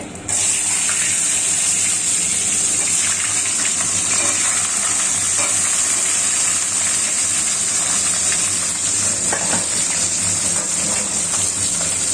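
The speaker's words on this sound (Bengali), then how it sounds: "আলুটা একটু ভাজা ভাজা হয়ে গেলে" Potatoes frying in a pan for a ritha fish gravy, a loud continuous hiss and crackle of hot oil that stays steady and close, with no voices.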